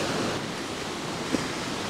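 Sea surf rolling onto the pebble shore at Alushta, Crimea, after a storm, a steady broadband wash with a soft swell and no voices.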